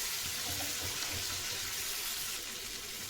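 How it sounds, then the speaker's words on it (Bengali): Prawns frying in oil, a steady hissing sizzle close by, fairly soft and continuous, with no voices. "আর এই চিংড়ি মাছটা এবার লাল করে ভেজে তুলে নেব"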